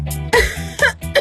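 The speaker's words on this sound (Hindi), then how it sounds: "तुम्हें खांसी हो रही है?" A person coughs a few times in quick succession, close and loud, in a short burst of rough throaty bursts.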